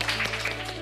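A group of second-grade schoolchildren clap together in a classroom, a dense, even wash of handclaps over a steady low hum, held at a constant level for under a second.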